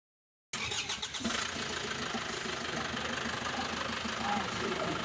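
An Isuzu Travis diesel engine runs after an oil and fuel filter change. After a brief silence it settles into a steady, close, knocking idle that continues to the end.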